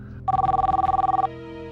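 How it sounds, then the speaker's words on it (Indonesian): A telephone rings indoors in a single steady trilling electronic burst lasting about a second, fairly loud over a quiet background. "Ada telepon dari Mas Yoga"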